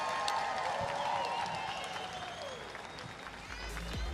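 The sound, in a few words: crowd applauding athletes at fitness competition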